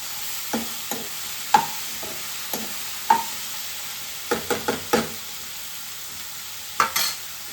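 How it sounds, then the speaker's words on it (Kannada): Ridge gourd with tomato and onion frying in a pan, with a spatula scraping and knocking in irregular strokes over a soft, steady sizzle, close and without talk. "ಇದು ಸ್ವಲ್ಪ ಫ್ರೈ ಆಗಲಿ ಚೆನ್ನಾಗಿ"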